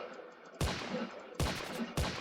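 Gun in Roblox Bedwars firing rainbow shots, three sharp loud blasts spaced about a second apart, each with a brief bright burst and decaying tail over a steady background hum.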